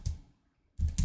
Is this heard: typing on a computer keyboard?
yes